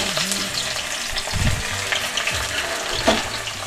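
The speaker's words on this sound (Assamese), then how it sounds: "পিঁয়াজখিনি ভালকৈ ভাজি ল'ব লাগিব দেই।" Onions fry in hot oil in a wok, a steady close sizzle that runs throughout with soft stirring scrapes and a few brief knocks.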